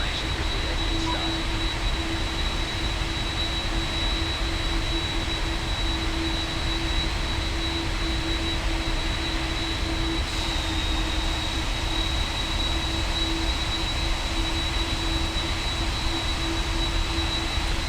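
A steady, loud aircraft engine drone in a flight simulator, a constant roar with a high whine held throughout without a break.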